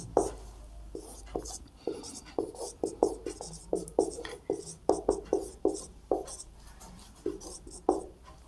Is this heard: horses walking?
no